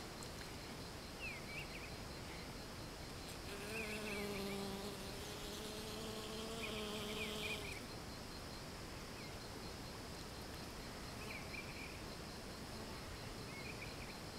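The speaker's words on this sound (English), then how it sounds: "It's the first year we've had this many" Bees buzz steadily around a top bar hive, a soft continuous drone with louder individual buzzes passing close by partway through.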